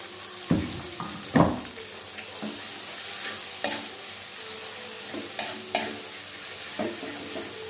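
Spice paste sautéing in a pan until fragrant, a steady soft sizzle broken by repeated stirring scrapes and clacks at irregular intervals, close and clear with no talking.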